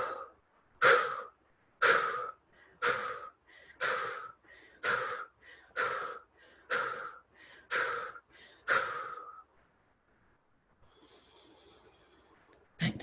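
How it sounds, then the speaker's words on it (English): Rhythmic, forceful breaths in a guided breathing exercise, about ten sharp audible inhale-exhale bursts at a steady pace close to the listener, followed by a quiet pause and faint rustle. "A nice gentle breath."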